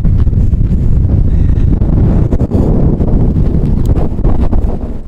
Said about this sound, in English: I apologize for the wind. It is windy here, real windy.